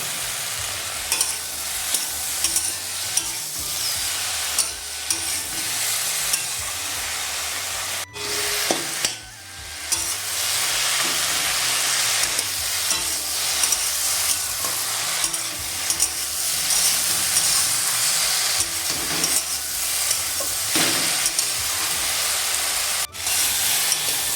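Pre-fried fish head and okra frying in a pan with ground cumin, giving a loud, steady sizzle with stirring scrapes throughout and a brief dip partway through.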